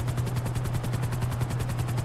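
A helicopter in the video game GTA V Online chops steadily with fast, even rotor pulses and a loud continuous engine drone throughout.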